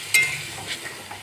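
Small river fish fry in a pan with spices while being stirred, producing a brief close sizzle with a scraping stir at the start that fades into a softer fry.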